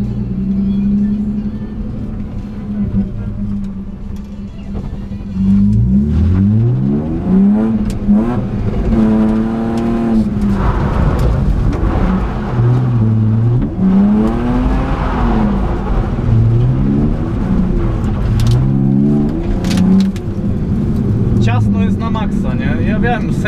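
A car engine revs hard, rising and falling in pitch again and again as the car slides around an asphalt course with a barrel in the middle, while someone talks throughout.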